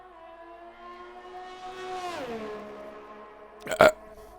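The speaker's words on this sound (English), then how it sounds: "That burp, I'll probably get a 3 out of 10" A long, drawn-out burp with a wavering pitch that bends downward midway, close and fairly quiet, followed by a short sharp thud near the end.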